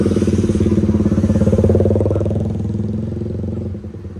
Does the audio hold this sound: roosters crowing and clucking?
no